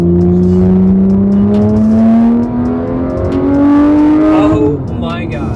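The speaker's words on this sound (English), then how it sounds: "this car has a Fabspeed exhaust on it" A Porsche 911 GT3 fitted with a Fabspeed exhaust revs hard and close, its rising engine note climbing steadily before cutting off near the end, loud and dominant throughout.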